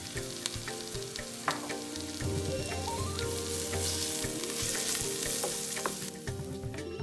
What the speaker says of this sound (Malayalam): ആ സവാളയുടെ ചെറിയൊരു നിറം മാറുന്നവരെ ഒന്ന് വഴറ്റി കൊടുക്കുക